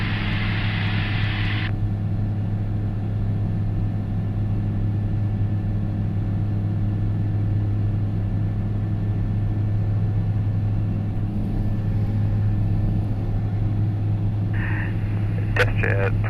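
Light aircraft engine drone inside the cockpit during a flying lesson, a loud, steady low hum with constant tone throughout, overlaid at the start and end by brief radio-like bursts.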